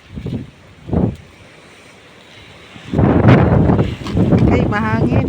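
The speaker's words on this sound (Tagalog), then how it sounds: "Ay, mahangin." Wind buffets the microphone in gusts in a cornfield, with short rumbling bursts early and a heavier stretch of roaring wind later, mixed with voices talking.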